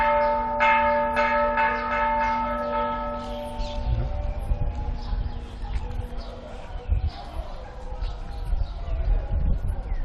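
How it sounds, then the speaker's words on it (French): A temple bell at a Thai temple in Khon Kaen rings in a few clear, resonant strikes with long sustained tones that fade out, followed by outdoor ambience with birds and faint background activity. "il y a quelqu'un qui sonne à la cloche"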